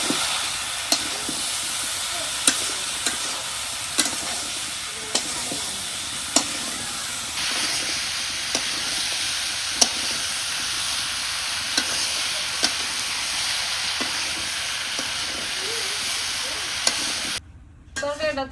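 Koi fish curry with ash gourd sizzles in a pan under a continuous loud hiss, with regular scraping stirs every second or two across the whole stretch, ending with a brief cutoff.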